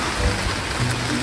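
Heavy rain pours down in Smoky Lake, Alberta, a dense, even hiss of drops striking surfaces close by that goes on without pause through a short moment.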